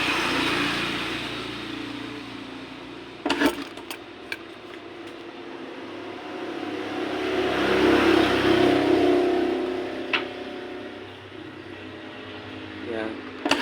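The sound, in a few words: traffic noise from vehicles passing on the road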